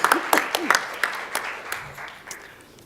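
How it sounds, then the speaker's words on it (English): Scattered applause from a conference audience greeting the panel of public health experts at an AIDS conference session, fairly faint, with a few distinct claps and a voice briefly heard over it as it fades. "So please give a round of applause for our panellists."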